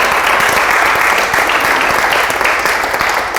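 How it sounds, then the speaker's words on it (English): Audience at a magic trick presentation by Ricardo Peixe breaking into applause, dense, loud, steady clapping from a close crowd throughout. "Have a round of applause"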